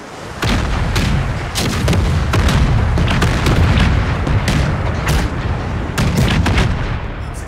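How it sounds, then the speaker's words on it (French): Galley cannons firing in a naval battle in Empire: Total War, a dense, loud barrage of booming shots and crackling reports rolling over each other continuously for several seconds. "une petite galère qui tire là-bas"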